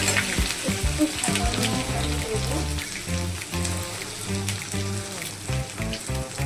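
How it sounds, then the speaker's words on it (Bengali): Grated ginger fries in hot oil in a pan, giving a steady, dense crackle and pattering sizzle throughout, with no talking. "আর এই ভাজা যাচ্ছে"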